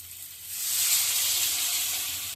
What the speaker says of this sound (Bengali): এবার আমি এখানে জল ঢেলে দেবো